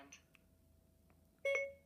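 A Bluetooth Star Trek communicator gadget gives a short, faint electronic chirp, then after a pause a clear tonal confirmation beep sounds for voice command, close and alone in a quiet room.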